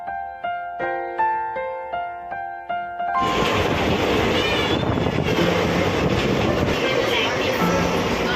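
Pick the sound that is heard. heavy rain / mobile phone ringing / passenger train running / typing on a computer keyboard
passenger train running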